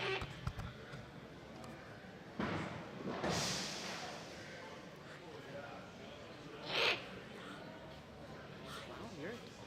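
Owl calling at an outdoor birds of prey show, a few short bright calls rising over steady crowd chatter and nearby talking, with one clearer louder call standing out midway.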